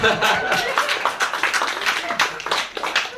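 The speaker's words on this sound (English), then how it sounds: "Big round of applause for the bad Muslim" A comedy club crowd at a stand-up crowd-work show claps in a loud, scattered burst, with some chuckling mixed in and a voice talking over it.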